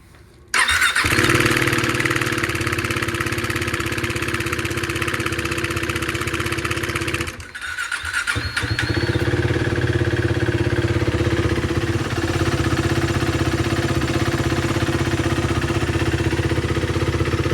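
A 2016 KTM Duke 390 motorcycle engine, with a newly replaced timing chain tensioner, cranks and fires up at the start, then settles into a steady, loud idle with a brief dip partway through.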